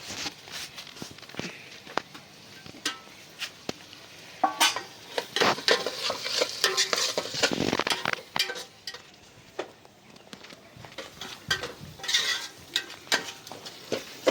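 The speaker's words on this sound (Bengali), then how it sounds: "এবার এই গ্রেভিটাকে খুব সুন্দর করে কষিয়ে নেব।" Chicken bhuna curry gravy with soaked nuts, chilli powder and spices is stir-fried in a pan: a spoon scrapes and clinks against the metal in an uneven rhythm over a soft sizzle, close and moderately loud.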